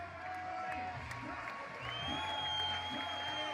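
A crowd at a FIBA 3x3 basketball dunk contest cheers and claps softly in the distance, building slightly while a commentator talks over it.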